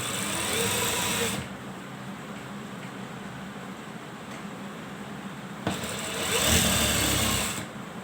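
A sewing machine stitches a ladies' belt shalwar, running in two loud bursts at the start and near the end with a quieter steady whir between.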